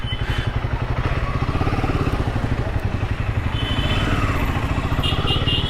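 A motorcycle engine runs close by with a steady rapid putter, idling and rumbling evenly throughout as it is ridden in and brought to a stop to be parked.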